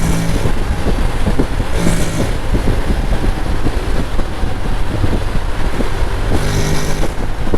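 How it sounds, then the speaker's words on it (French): A Honda Forza 750 scooter (2025) with its stock exhaust, riding along with a continuous engine drone mixed with heavy wind rush past the microphone, loud and steady, with brief swells. "l'échappement il est d'origine, hein, donc ça fait quand même un petit bruit"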